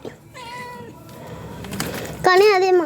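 A cat meows several times close by, drawn-out and whiny, the final call loudest, with faint background noise between.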